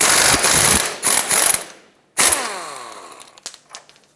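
Ratchet removing a 22mm nut on a 1996-2002 Toyota 4Runner front lower control arm: loud close bursts of rapid clicking, a pause, then a ringing metallic clank and a few scattered small knocks, no talking.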